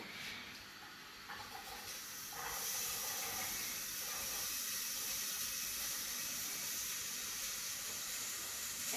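Onions sizzling in a hot pan on a home stove, a steady hiss that swells louder partway through and then holds an even, close frying crackle with no talking.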